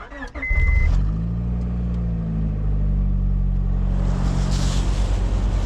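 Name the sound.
truck engine started and warming up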